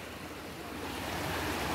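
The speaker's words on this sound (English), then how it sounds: "Here we are at the creek of Adams Lake" Creek water at Adams Lake, a steady broadband rush of flowing water mixed with some wind noise, continuous and fairly quiet throughout, with no talking.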